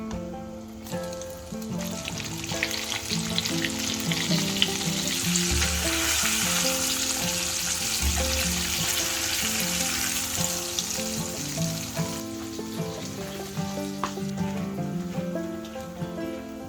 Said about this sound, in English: whilst the fish is getting fried